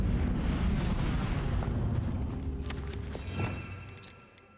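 A roaring, crackling blast of the Incendio fire spell in Hogwarts Legacy, loud and dense at first, then fading over several seconds into a thinner hiss with faint tail-end pops.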